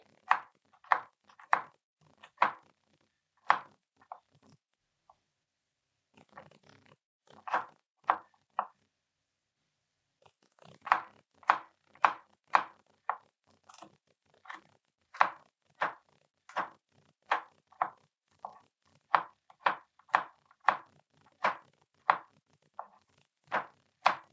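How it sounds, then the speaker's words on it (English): Garlic diced with a knife on a cutting board, sharp close chops in quick rhythmic bursts with a short pause between runs, no talk. "We got to dice it up, the garlic."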